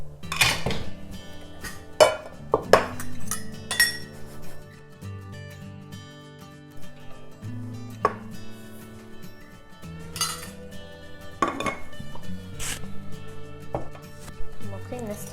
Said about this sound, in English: And we'll cream this together.